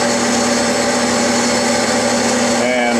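A metal lathe takes a light finishing pass while turning a pulley part. It gives a steady, loud, continuous tonal whine and hum that holds even for the whole stretch.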